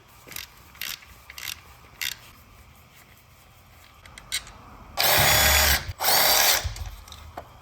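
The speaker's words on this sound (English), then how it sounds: "Now we're gonna go and try and take all of the bolts out from the oil pan, and we're gonna drop this sucker." A power tool removes the oil pan bolts on a Honda motorcycle. It whirs in several short bursts and then in two longer, louder runs, close up with light clatter in between.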